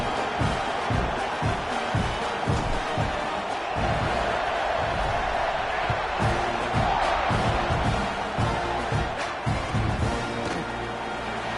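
A stadium crowd roars in a broad, sustained wash of cheering as a football team lines up to kick off. Scattered thumps and whoops rise from within the din.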